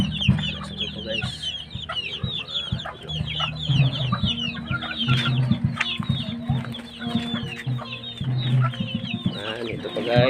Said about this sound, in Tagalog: Ayan po yung mga alaga namin, yung mga manok.